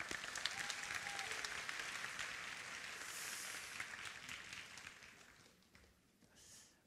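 Applause from a church youth worship congregation, a dense sustained round of clapping that carries on for several seconds and then thins and fades toward the end.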